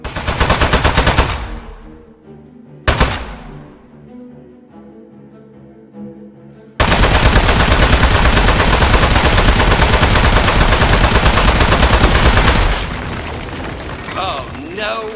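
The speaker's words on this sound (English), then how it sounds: "Keep shooting." Machine-gun fire and explosions in a video game, starting with heavy bursts and booming impacts, then a long, loud, unbroken stream of rapid automatic fire before it cuts off into quieter rumble.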